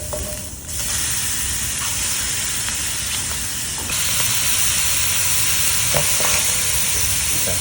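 Squid tubes sizzle hard on a hot braai grill, a loud, steady frying hiss that runs unbroken with faint pops and crackles, growing slightly louder partway through.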